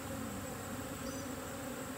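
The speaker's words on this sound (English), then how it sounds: "So I'll try to shoo the bees out of here and close this up" Honeybees buzz steadily around an open beehive during robbing, a dense continuous drone close by with no speech.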